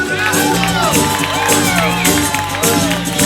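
A bar audience at a 2008 tribute concert in Zaragoza cheers, whoops and claps loudly for a guitarist. The crowd noise is dense and close, with steady tones from the band and voices ringing through it.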